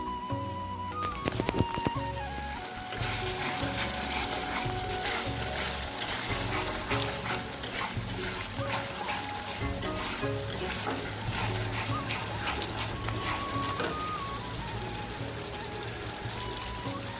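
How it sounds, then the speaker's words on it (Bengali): A spice paste is sautéed for a vegetable curry in a home kitchen, giving a continuous dense sizzle that sounds almost like rain, heard up close with a few clinks at the start and no talking. "মশলাটা একটু কষিয়ে নিচ্ছি"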